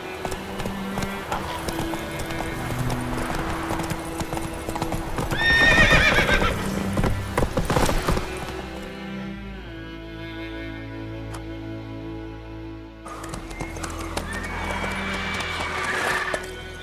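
Horse hooves clip-clop at a gallop with repeated neighs and whinnies in The Witcher 3, the rhythmic hoofbeats steady and close over game music and ambience.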